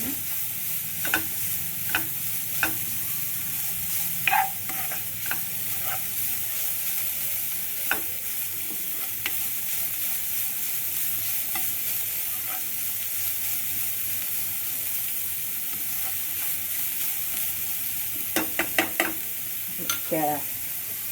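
Vegetables for veg momo filling stirred in a pan over a medium-high flame, a constant low sizzle broken by scattered spoon taps and scrapes, with a brisk cluster of clinks near the end.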